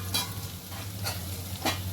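Green peas curry is stirred in a pan over low sizzling, with three soft scraping strokes spaced evenly against a steady background hum.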